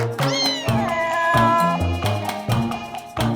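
Cats meow up close, three or four drawn-out, bending cries in quick succession, loud and clear with no talking.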